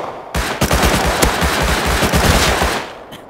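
Rapid close gunfire in the video game Rust: a loud burst of automatic shots with sharp repeated cracks over a dense roar, lasting nearly three seconds before cutting off, with no talk heard.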